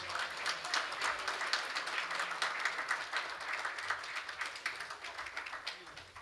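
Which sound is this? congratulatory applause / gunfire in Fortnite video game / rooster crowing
congratulatory applause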